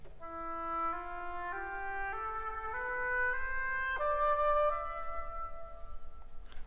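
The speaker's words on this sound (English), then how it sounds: "play a scale using only the white notes, but instead of beginning on C, you begin on E" A slow ascending Phrygian scale of eight sustained notes on the white notes starting on E, with a darker, minor-sounding color, played cleanly with no voices.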